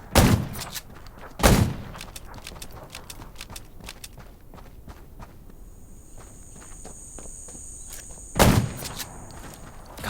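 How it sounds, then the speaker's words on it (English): Three loud, sharp gunshots ring out in the zombie survival game Undawn, spaced apart amid a low ambient bed of insect-like chirps and faint footsteps. "Gunshots will attract more zombies."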